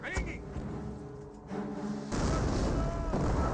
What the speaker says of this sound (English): Good mortar hit there onto the Pack 38. I think he's trying to barrage down the mortar